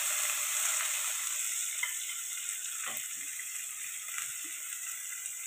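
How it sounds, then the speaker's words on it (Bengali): Onions and green chilies frying with browned garlic in a pan, a steady soft sizzle with a few faint stirring clinks, no talk over it. "এখন পেঁয়াজ আর কাঁচা মরিচ একলগে দিলাম"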